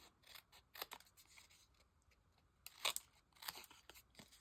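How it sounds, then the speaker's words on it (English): Paper snips make a few crisp cutting snips and crunches while trimming paper edges flush at a stamping and card-making table, quiet and close, with a brief pause between cuts. "I'm just going to take my paper snips and trim those edges off so everything is flush"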